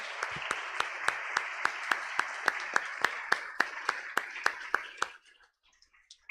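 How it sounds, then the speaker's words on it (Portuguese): A church congregation at a family worship service claps in a steady rhythmic beat, about four claps per second, then stops abruptly into near silence. "Vamos aplaudir a Ele por esse momento, por essa palavra."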